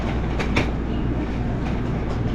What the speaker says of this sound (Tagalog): Sasakay na naman kami ng train for the last time.